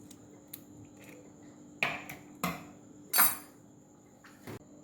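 Batter of egg, salt and pepper for coating prawns is mixed in a bowl: a handful of sparse, sharp utensil clinks and knocks against the bowl stand out over a quiet background, with no talking.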